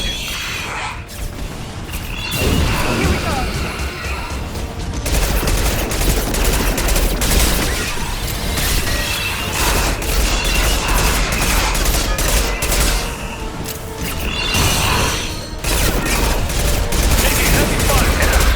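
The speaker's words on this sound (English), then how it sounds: "Firing anti-ship batteries at collector vessel." Sustained heavy weapons fire from anti-ship batteries aimed at a Collector vessel in the video game Mass Effect 2, a loud continuous barrage of booming shots and mechanical rumble with brief dips, a voice talking underneath.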